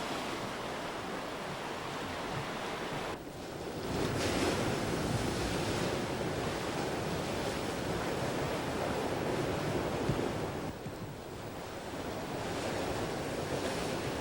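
Pacific Ocean waves wash onto the rocky seashore of Longkeng in Kenting National Park, Taiwan, a steady broad roar of surf with swelling surges, heard from a coastal observation deck with wind buffeting the microphone.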